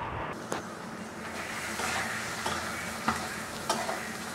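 Ground cumin, chili powder, ginger paste and green chili paste frying in oil in a pan for a Bengali banana-flower curry, with a steady close sizzle broken by a few sharp scrapes and knocks of a spoon stirring the spices.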